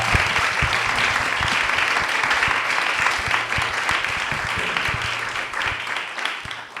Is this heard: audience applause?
yes